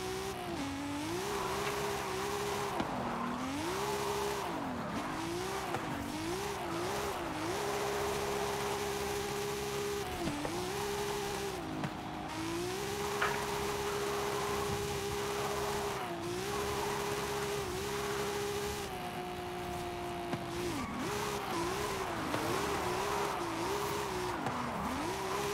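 A Nissan 200SX S14 drifts in Forza Horizon 5, its engine revving up and down through wavering pitch changes while tires squeal and skid almost continuously, loud and close.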